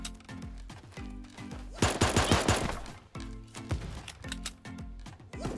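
Rapid bursts of gunfire from the Super Animal Royale battle royale game, loud and close, in clustered volleys with short pauses between them.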